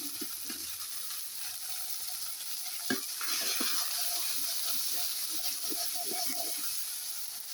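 Ginger paste hits hot oil in a pan and sizzles with a bright, steady hiss, broken by a few stirring scrapes and soft clinks, with a sudden sharp crackle as it goes in.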